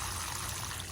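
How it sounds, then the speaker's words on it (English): Water is poured onto a freshly transplanted oregano plant to soak its roots, heard as a short, steady, soft splashing stream alone. "So we're going to give it a good soaking because when you first transplant a plant, you need to give those roots a lot of water"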